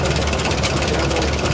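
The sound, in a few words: Waukesha 650 cubic inch engine running on Linn tractor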